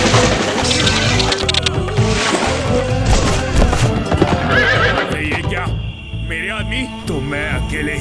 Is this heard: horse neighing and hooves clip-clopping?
yes